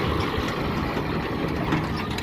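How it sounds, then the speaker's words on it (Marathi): Tractor engines idle nearby in a steady, continuous low rumble with a faint knocking texture. The drone holds at an even loudness throughout and stands alone, without talk. "इकडले ट्रॅक्टर बघा"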